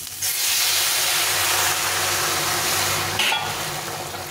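Water poured into a hot pan of fried semolina while making upma sets off a loud, close, steady steam hiss and sizzle that starts abruptly and holds for several seconds, fading slightly at the end, with no talking.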